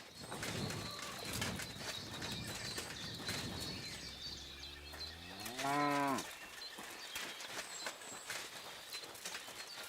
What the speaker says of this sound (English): is it making moo sounds? Or is there a cow like next door?